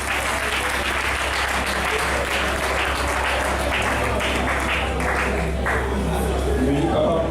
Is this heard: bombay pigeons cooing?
no